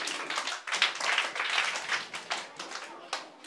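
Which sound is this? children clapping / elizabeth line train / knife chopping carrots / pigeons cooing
children clapping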